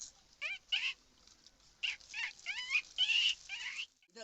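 A human mimic produces high, thin squeaks imitating a baby rat, several short warbling chirps in irregular clusters, close and fairly quiet.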